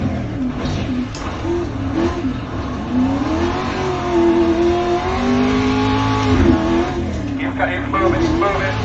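A rallycross car engine in the iRacing simulator revs and climbs through gears, with a quick downshift and rising and falling engine pitch, loud and steady throughout, with a voice talking over it.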